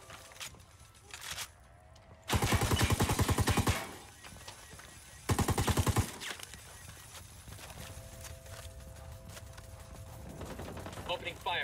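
Gunfire in Ghost Recon Wildlands: two loud sustained bursts of rapid automatic fire, each lasting over a second, set against quieter scattered shots, background rumble and speech from players.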